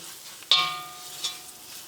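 Black pepper powder hits hot oil in a pan, giving a sudden soft sizzle and then a second smaller hiss, quiet and close, with no talking.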